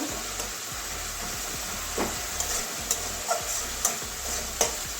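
Continuous sizzling hiss of spice paste frying in oil until the oil separates, punctuated by several soft scraping stirs at irregular intervals, close up and without talk.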